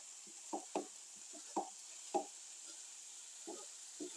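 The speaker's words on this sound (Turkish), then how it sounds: "Güzelce harmanlıyorum hepsini." Ground meat with tomato and a teaspoon of thyme stirred in a pan, heard as soft, quiet scraping strokes arriving irregularly over a faint steady hiss, with no talking.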